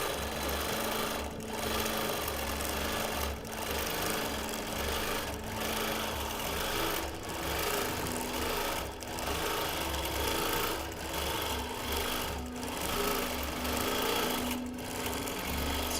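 A quilting machine stitches feather plumes across a pieced quilt backing, its steady, rapid mechanical hum running close and continuous, with a regular soft thump pulsing roughly every second or two throughout.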